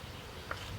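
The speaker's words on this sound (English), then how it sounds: "our bees are swarming" A swarm of honey bees fills the air with a steady, diffuse buzzing hum, faint and continuous throughout with no talking.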